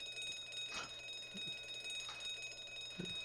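A continuous electric bell rings faintly in The Great Ace Attorney Adventures, a steady trill with a few soft knocks and clicks over it and no talk.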